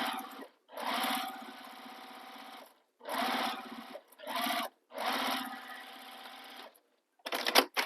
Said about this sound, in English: we're going to baste the side edge, the bottom edge, and the other side edge all together